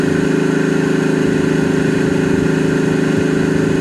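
A 1967 Chevrolet Camaro cruises at 70 mph, its engine droning in a steady, loud, low hum mixed with road noise, continuous and unbroken with no talking.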